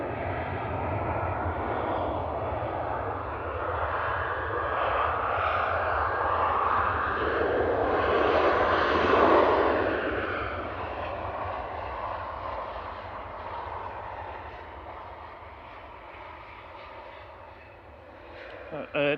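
An aircraft, Shuttle 2 Kilo, rolls out at Manchester Airport, its engine roar swelling to a broad peak midway and then easing off, heard from a distance with occasional low voices nearby.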